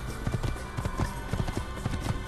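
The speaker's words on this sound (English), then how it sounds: "actually riding the horse" Horse hooves clip-clop in a steady rhythmic gallop in the Assassin's Creed video game, mid-loud and continuous with game ambience around.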